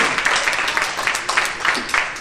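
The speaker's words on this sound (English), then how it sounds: "Clap your hands." A church congregation claps along during a sermon, a dense wash of many hands with soft rhythmic peaks, moderately loud and without talk over it.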